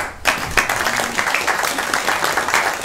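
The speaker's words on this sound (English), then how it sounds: "All of you can clap" An audience clapping during a devotional talk, a sustained round of many hands with some sharper individual claps standing out, fairly loud and even throughout.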